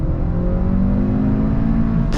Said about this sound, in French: 7000 tours à fond, à fond, à fond